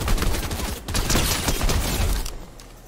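Rapid gunfire in the video game Fortnite, dense loud bursts of shots with a brief pause, then continuing fire that fades out near the end.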